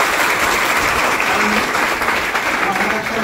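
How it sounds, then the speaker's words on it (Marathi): Audience applauding at a birthday gathering at an academy for a visiting member of parliament, sustained dense clapping from a crowd, steady and loud for the whole stretch, with voices mixed in. "त्यामुळे सगळेजण जोरदार टाळ्या"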